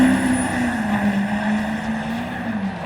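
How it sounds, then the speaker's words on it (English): A Duramax diesel truck sits staged at a drag race with its turbo spooling up, giving a steady, loud whine with a low engine drone that rises slightly and holds across the clip. "You hear the turbo spooling up."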